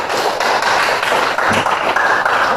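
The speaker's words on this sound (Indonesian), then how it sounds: "Kasih aplaus dulu ya" Applause from an audience, a steady dense patter of many hands clapping that fills the whole moment at close range with no voices over it.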